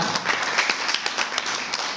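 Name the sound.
congregation applauding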